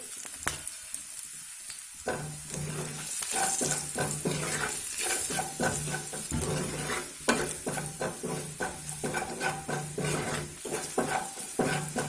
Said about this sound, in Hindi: कुछ सेकंड्स बस भूनना है, बहुत ज्यादा नहीं, मसाले जलने नहीं चाहिए।